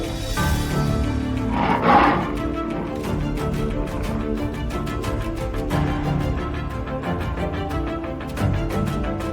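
Lions roar repeatedly, deep rumbling calls rolling over each other, loud and reverberant with a sustained tonal backdrop.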